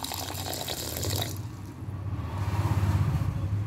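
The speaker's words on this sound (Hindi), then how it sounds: "शक्कर डूबे इतना हम पानी डाल लेंगे" Water pours into a pot over sugar to make syrup for Rajasthani besan chakki, a close, continuous splashing stream that shifts to a lower gurgle as the pot fills, with no voices.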